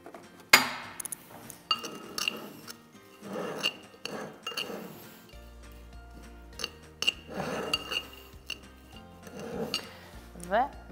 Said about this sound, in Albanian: Anën tjetër e përzijim mirë me një lugë.